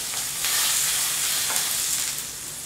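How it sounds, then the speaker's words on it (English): Steady, close sizzling and crackling of salmon frying in a hot pan, a continuous hiss with no talking. "So my salmon sounds like it's about ready"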